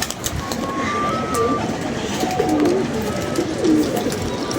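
A flock of about eight to ten pigeons circles overhead on a windy day, their soft cooing mixed into steady wind rush and background noise, with a voice talking faintly at times.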